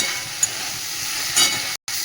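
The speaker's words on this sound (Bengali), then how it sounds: "আলুর সাথে নিজের একটা সোয়াবিনটাও দিয়ে দিলাম, ওটা দিয়ে একটু কষাবো" Spice masala with potatoes and soybean being sautéed in a pan, a steady close sizzle with faint stirring scrapes and a brief break near the end.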